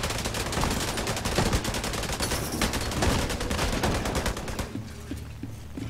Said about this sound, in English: Ooh, I like the shotgun.